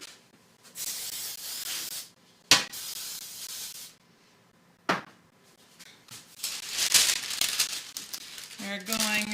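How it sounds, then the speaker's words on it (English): Cooking spray hisses in short bursts onto the edges of a baking pan partly lined with parchment paper for a pumpkin roll cake, close and crisp, with crinkling and rubbing between sprays and brief speech at the end. "you want to spray down the edges that don't have parchment paper on them"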